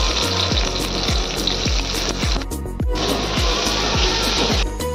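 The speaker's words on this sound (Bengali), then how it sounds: "তেলটা গরম হয়ে গেছে, প্রথমে দিয়ে দেবো পেঁয়াজ কুচি" Chopped onion hitting hot mustard oil, loud and close, a dense roaring sizzle over a rapid series of rhythmic low thumps, with a short lull in the middle.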